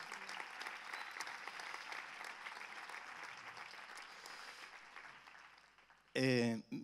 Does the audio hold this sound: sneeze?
no